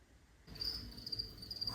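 Crickets bought as live pet food chirp steadily indoors in a home kitchen, a continuous high trill that fades in after a moment of quiet and then keeps going, fairly faint, with no voices.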